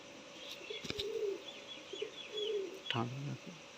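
Golden teddy pigeons coo in low, throaty bursts close by, with a louder rolling coo near the end, alongside some faint chirps and a couple of sharp knocks.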